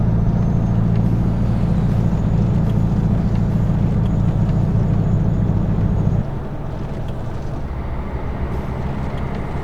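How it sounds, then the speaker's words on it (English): A truck's engine brake rumbles loudly and continuously as it slows on a corner, a deep, steady throbbing drone that drops abruptly to a lower, quieter engine hum near the end, with no talking over it. "Jake brake on"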